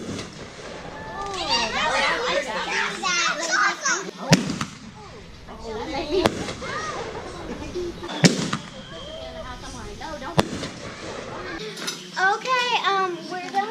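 Small backyard fireworks crackle, whistle and pop with several sharp bangs, while children and adults chatter and exclaim over them.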